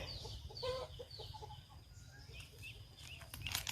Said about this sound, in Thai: เลี้ยงเป็ดเลี้ยงไก่